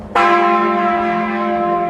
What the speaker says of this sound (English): The church bells ring as they have for centuries, calling people to reflection.